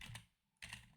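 Faint, close keystrokes on a computer keyboard in two quick clusters with a short pause between, no voices.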